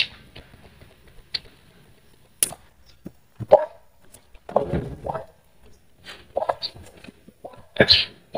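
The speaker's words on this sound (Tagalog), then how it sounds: "may narinig kayong tahol ng aso" A few short, sharp dog barks come in scattered bursts with quiet gaps between them, fairly close and moderately loud.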